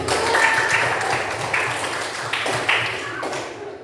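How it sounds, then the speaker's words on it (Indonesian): A classroom of students claps together, a brief busy patter of hands with a few sharper claps, fading out near the end. "Tepuk tangan untuk kita semua."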